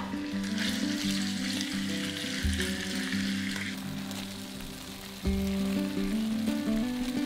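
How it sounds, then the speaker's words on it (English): Floured, salt-and-pepper-seasoned beef pieces browning in a hot pan, a steady close sizzle running throughout, with low tonal sounds underneath and a louder burst of frying near the end. "Add the beef to the pan and brown it on all sides."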